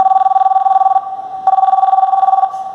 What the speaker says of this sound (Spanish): le marco también por teléfono